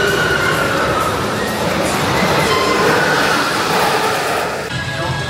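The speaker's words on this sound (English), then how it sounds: "that makes the most horrible noise of any roller coaster I've ever heard" The Mind Blower roller coaster at Fun Spot America in Florida rumbles loudly and continuously, with harsh metallic roar and faint squealing tones from the train on the track, close and dense throughout.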